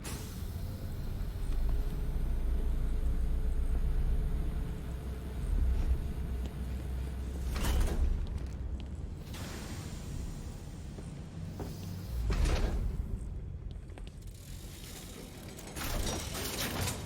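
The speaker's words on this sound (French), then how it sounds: "Je dois fermer la porte de la chambre forte pour contenir l'explosion." A heavy vault door closes in Batman: Arkham Knight with a long mechanical grinding and ratcheting drone, broken by several louder clanks and creaks over about seventeen seconds, with no talking.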